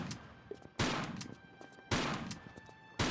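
Three loud, sharp shotgun blasts spaced about a second apart in a Tomb Raider custom level, each with a short echoing tail, over quiet game ambience.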